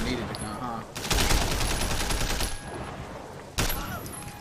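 Gunfire in the video game Sleeping Dogs arrives as a loud crack and a dense rattle of shots, with a second sharp blast near the end and game sounds around it.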